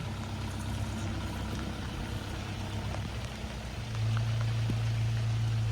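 A car rolls in at idle onto a mowed patch in the middle of a farm field for a rainy-day campsite, a steady low engine hum with rain noise, the engine tone rising and holding near the end.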